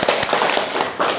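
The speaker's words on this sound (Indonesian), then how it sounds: "Oke, tepuk tangan dulu untuk Bagus." Applause for a student in a classroom lesson, a dense patter of many hands clapping steadily and fairly loud throughout, with no voices over it.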